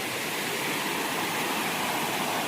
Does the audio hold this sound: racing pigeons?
no